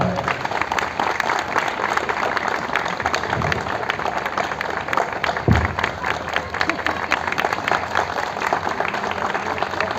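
A crowd claps and cheers for a mayor on his home balcony as he officiates a wedding during coronavirus quarantine, a steady outdoor patter of applause with scattered voices and a brief thump midway.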